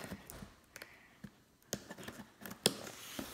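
A package is cut open during an unboxing of a mantis delivery, with scattered sharp snips, clicks and scrapes close up, irregular and fairly quiet, and one louder crisp snap near the end.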